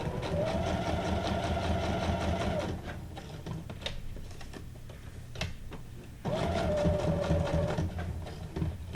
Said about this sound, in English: do a straight stitch around my little postcard